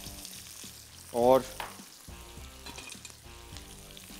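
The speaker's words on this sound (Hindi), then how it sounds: "चलिए इसको सबसे पहले फ्राई करेंगे प्याज" Sliced onions sizzle in hot oil in a pan for a turnip curry, a steady close frying hiss with a brief stir and a short spoken word.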